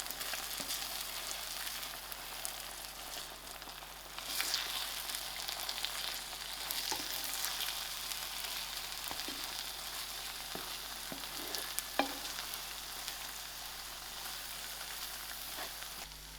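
Eggs with methi sprouts sizzle steadily in a pan on the stove while being stirred, giving a continuous close frying hiss with occasional scraping taps.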